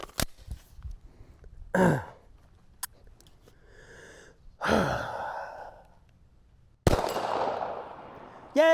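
A handgun fires at a target during a magazine reload drill, with a few sharp, separated reports that each trail off, spread across an otherwise quiet stretch.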